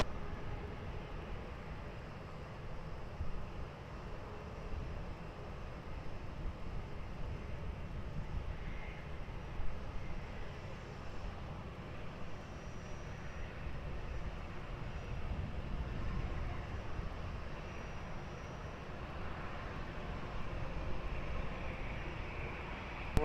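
An Airbus A330 airliner crossing the runway at Lisbon Airport gives a steady, distant jet engine rumble and whine, a broad continuous roar that holds level throughout with no voices.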